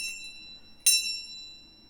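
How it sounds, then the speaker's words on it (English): A small bell is struck once in a quiet room, giving a bright ringing tone that slowly fades, with a faint earlier ring just before it. "Just feel guided to ring this bell."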